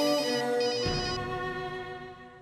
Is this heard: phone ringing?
yes